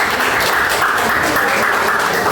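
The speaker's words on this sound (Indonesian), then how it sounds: "terima kasih tepuk tangan untuk semua" A classroom group applauding together, a dense, even burst of clapping held loud and steady from start to finish.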